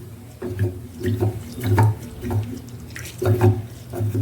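Soaked rice is squeezed and rinsed by hand in a bowl of water, giving rhythmic wet sloshing and squishing pulses, close and fairly loud, with no talking.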